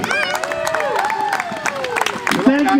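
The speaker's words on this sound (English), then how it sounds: "Let's cheer them on" Crowd cheering and clapping for runners at the start of a 7K trail run, scattered applause and shouts under a prominent speaking voice over a public address.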